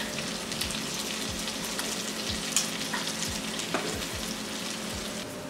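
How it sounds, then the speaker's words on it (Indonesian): Eggs fry in butter in a pan for butter fried rice, a steady close sizzle and crackle throughout, broken by faint scraping stirs. "Lanjut ini telurnya saya masukkan."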